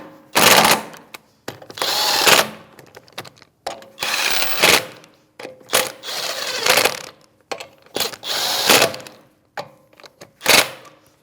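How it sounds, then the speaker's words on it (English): Impact or power tool snugging wheel lug nuts with a 19mm socket on a Chevrolet Malibu, a series of short buzzing bursts separated by brief pauses, close and loud. "It's a 19mm socket, and we're just going to bottom them out and then torque them to specs."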